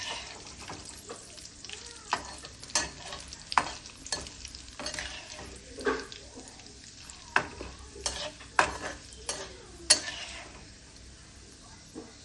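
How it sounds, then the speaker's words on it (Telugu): Mustard seeds, cumin, fenugreek and dried chillies fry in hot oil for a tempering, giving a steady sizzle punctuated by repeated scraping stirs of a spoon in the pan. "ఇంకా వేగాలండి పోపు"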